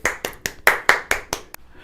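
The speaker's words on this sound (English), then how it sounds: "Give yourselves a round of applause." A roomful of young children applauds together at a preschool music lesson, a quick run of eight sharp, bright claps spread evenly over about two seconds, fairly close and clear.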